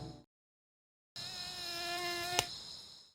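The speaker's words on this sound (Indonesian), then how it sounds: "ia tidak tahan dengan serangan nyamuk yang membandel" A thin, steady insect whine of mosquitoes hovers close after a brief gap of silence, sustained and faint, with a short sharp tap near the end and no voices.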